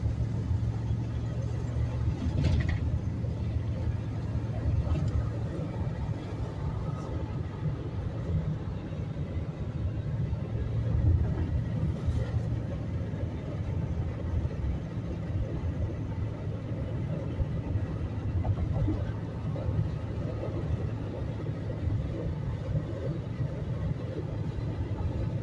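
Steady low engine rumble and road noise from inside a 1994 Chevy C1500 pickup truck cruising along, continuous and fairly loud with no clear changes in pace.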